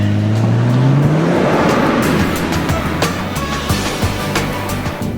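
Powerful car accelerating hard at high speed, a loud engine note climbing steadily in pitch, then sustained roaring drive with road and wind rush, close and continuous throughout.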